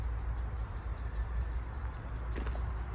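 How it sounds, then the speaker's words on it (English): A train rumbles low and steady as it approaches, with a faint rising hiss and clatter toward the end; no one speaks. "Oh, I think there is a fucking train coming my way."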